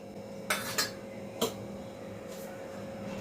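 Cooked rice dough for papad being scooped from a pot into a wide vessel after the gas is switched off. Three sharp metallic clinks of utensil on pot come in quick succession, then a fainter one, over a low background hum.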